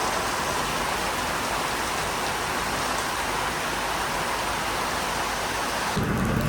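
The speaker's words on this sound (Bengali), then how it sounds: "সব দিকে অনেক বৃষ্টি হচ্ছে, সকাল থেকে টোটালি থামতেছি না" Heavy, unbroken rain pours down during a day-long downpour that has flooded the area knee-deep, a dense close roar of falling water with low rumbling underneath, no voices, and a slight shift in texture at the very end.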